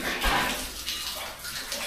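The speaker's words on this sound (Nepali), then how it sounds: "र माथि भित्रबाट पानी आएको छ यहाँ चाहिँ" Water pours steadily from inside the rock at Chhaya Kshetra Mahadev temple in Syangja, Nepal, a continuous close rushing splash with slight surges throughout.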